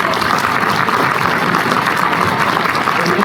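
An audience at a London Film Festival Q&A gives a young actor a dense, steady round of applause, loud and continuous throughout with no voices on top.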